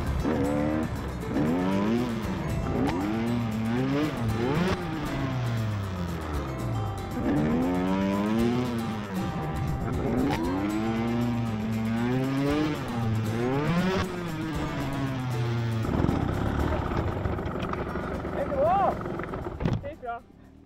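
A motorcycle engine revs up and down in repeated rising and falling surges while the rider pulls wheelies, loud and close, with a voice speaking over it near the end.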